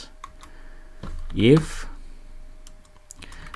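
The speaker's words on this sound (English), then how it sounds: "I'm gonna type here else" Scattered keystrokes on a computer keyboard while Python code is typed, soft sparse clicks around a short spoken word.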